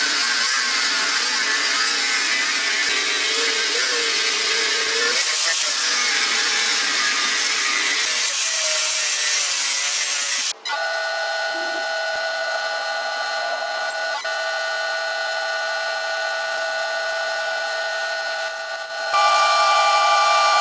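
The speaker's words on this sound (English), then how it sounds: "I'll grind off this weld" A continuous, loud, harsh grinding whine of an abrasive tool grinding a weld off steel round stock, changing pitch partway through and running steadily without any talk.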